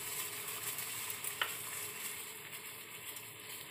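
Blue butterfly pea (Aparajita) tea with cinnamon simmers in a pot of water, a soft, even bubbling hiss at low volume with one small tap partway through.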